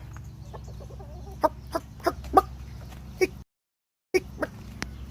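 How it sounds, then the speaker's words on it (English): A rooster gives a series of short, separate clucks, close by, with brief pauses between them over a low background hum. "Where's that rooster?"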